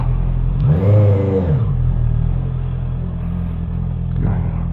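Motorcycle engine running steadily while riding on a road trip around Pantabangan, a low droning hum with a brief swell of revving near the start and wind rumble underneath.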